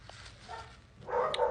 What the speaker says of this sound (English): There he goes barking.